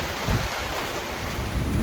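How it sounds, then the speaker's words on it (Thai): Strong storm wind gusts and buffets around an outdoor spot with a tent, a steady loud broadband roar with low rumbling surges, no speech. "ลมแรงด้วยครับ"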